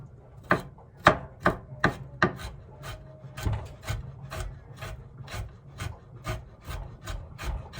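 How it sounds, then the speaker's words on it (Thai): A knife chops ginger on a cutting board in a steady series of sharp, close taps, about two per second. "เราก็จะหั่นมันเป็นเล็กๆอย่างนี้นะคะ"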